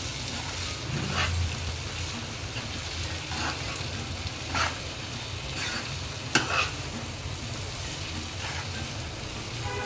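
Brinjal pieces coated in masala powder fry in a pan while being stirred, a steady close hiss of sizzling oil with soft scraping strokes and an occasional sharp utensil tap.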